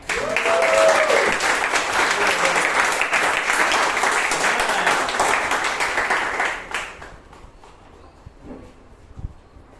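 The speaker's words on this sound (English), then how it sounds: "Please welcome with a big round of applause, Abhay Kothari." A Toastmasters meeting audience in Bangalore gives a big round of applause welcoming speaker Abhay Kothari, steady full clapping for about six seconds before it fades quickly into a quiet room with a few scattered sounds.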